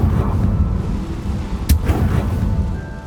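Confringo spell explosion in Hogwarts Legacy, a single sharp blast partway through over a low, rumbling game ambience.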